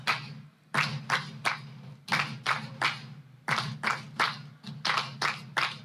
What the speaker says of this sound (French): Thank you, those of you who are clapping.